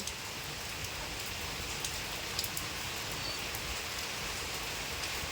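Steady rain falling continuously on surfaces outdoors, an even dense hiss of drops with a few brighter patters, no voices.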